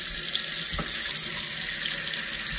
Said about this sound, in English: Let's check the water pressure.